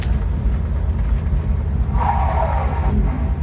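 A 1951 Ford F1 pickup truck with mushy brakes pulls along a side street, its engine giving a loud, steady low rumble that rises slightly as it picks up speed, heard from inside the cab with no talking.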